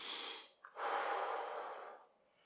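A person breathes during a stretching hold in a beginner toning workout: a long audible inhale or exhale, a brief catch, then a longer steady breath close to the mic, soft and alone.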